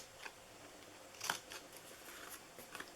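Scissors cut through waxed cardstock while making a papercraft heart box, producing faint, close crisp snipping strokes in a quick, uneven series over soft background hiss.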